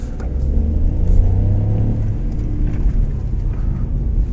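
A small 100-horsepower car accelerating, its engine rumbling loud and close as revs climb, then settling into a steady drone without talk.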